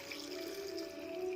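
Water poured into a cooking pot holding cauliflower and lentils, a quiet, continuous trickling stream with a faint steady tone, close and low in level, with no talk.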